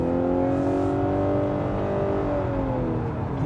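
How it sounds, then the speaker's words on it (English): A car's relatively small 2-litre naturally aspirated engine pulls under acceleration, a close, steady droning tone that climbs slowly in pitch, with road noise underneath and no speech. "it's only a relatively small 2-litre engine, but it's not turbocharged"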